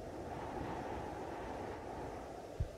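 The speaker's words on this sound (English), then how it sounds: "damn, it's windy outside" A steady low roar of wind blows continuously, with a single soft thump near the end.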